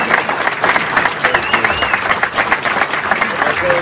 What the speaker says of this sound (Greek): να δώσουμε ένα θερμό χειροκρότημα και σε ολόκληρη την ομάδα